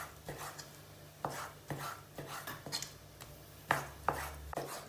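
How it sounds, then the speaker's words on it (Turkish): A knife chops chicken on a board in a run of sharp, irregular thuds, some louder than others, with no talking. "Tavuklarımızı çok fazla iri doğramayacağız."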